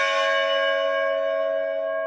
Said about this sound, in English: Our bell resonates with a beautiful tone, and it takes many seconds for the note to die out, thanks to the interplay between copper and tin.